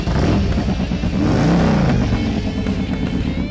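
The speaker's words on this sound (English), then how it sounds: "That exhaust absolutely rumbles." A 2003 Harley-Davidson Road King Screamin' Eagle motorcycle's exhaust rumbles loudly up close, deep and throaty, with a rev that rises and falls midway.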